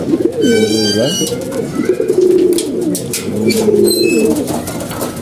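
Several pigeons in a loft cooing in repeated throaty, wavering bursts, close and loud, with occasional higher chirps overhead and someone speaking over them.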